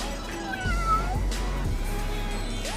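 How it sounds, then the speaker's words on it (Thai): A cat meows several times up close, with rising, drawn-out cries over a constant low hum in the room. "ส้มหยุดเนี่ยเป็นแมวที่ผมไปเจอมาตอนที่ผมขับรถ"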